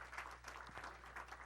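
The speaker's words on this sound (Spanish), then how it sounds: "denle un aplauso al Señor, si me está entendiendo." A church congregation claps for a few seconds during a service, a faint, distant patter of applause over a steady low electrical hum.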